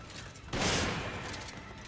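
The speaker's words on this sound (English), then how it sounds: "Shotgun to the face." A single loud shotgun blast bursts out in Resident Evil 5, its sharp crack decaying into a rumbling tail over low game ambience.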